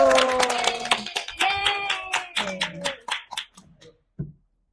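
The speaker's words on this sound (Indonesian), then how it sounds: "tepuk tangan dulu untuk kelompok 1" Students in a classroom clap for a presenting group, sharp hand claps that thin out and fade to a last few isolated claps, with voices talking over the first part.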